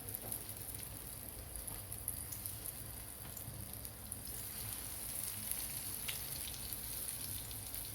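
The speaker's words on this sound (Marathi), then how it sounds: "आता मी वांगीही टाकून घेते व्यवस्थित मीडियम गॅसवर आपण फ्राय करून घेऊया" Eggplant slices fry in hot oil over medium heat, giving a steady dense sizzle and crackle with scattered pops that runs evenly throughout, close and moderately loud, with no voices.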